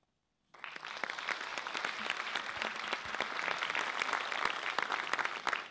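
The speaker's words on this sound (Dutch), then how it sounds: "De jury klapt voor iedereen," A jury applauds after a poetry recitation at a Limburg declamation contest, steady dense clapping that starts abruptly after a brief silence and holds at an even level throughout, with no voices.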